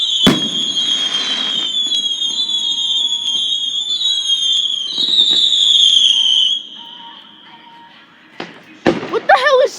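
Fireworks going off outdoors, loud crackling bursts and whistling rockets over several seconds, followed by sharper close bangs near the end, with a person speaking over the noise.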